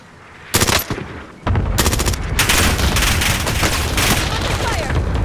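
Rapid automatic gunfire bursts in Call of Duty: Modern Warfare, loud sharp volleys that start and stop, then a sustained dense firefight with explosions underneath.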